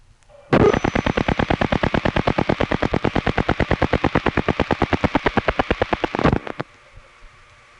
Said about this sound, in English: That was an incoming call from the local, that is the Bridgewater callback circuit.